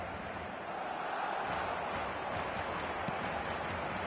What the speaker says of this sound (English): I think they can sense a comeback here, and so can this crowd.